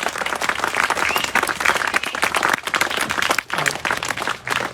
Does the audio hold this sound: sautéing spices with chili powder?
no